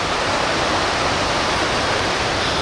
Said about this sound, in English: I honestly think it leads to a waterfall down there.